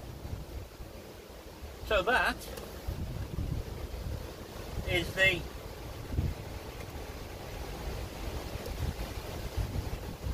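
Gusty wind in stormy weather buffets the microphone outdoors, a continuous rushing roar with louder surges, while someone speaks briefly twice over it.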